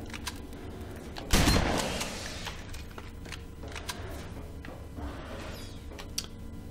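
One heavy cannon boom goes off in the video game Alien Breed Impact, its rumble fading over a second, followed by scattered faint clicks and thuds against a steady background hum.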